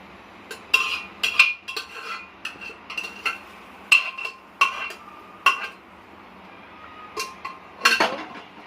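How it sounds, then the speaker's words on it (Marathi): Repeated metallic clanks and taps of a masher striking a pressure cooker as boiled vegetables for pav bhaji are mashed, in an irregular rhythm, close and fairly loud, with no talking. "या मॅशरने आपण ह्याला मॅश करून घ्यायचं"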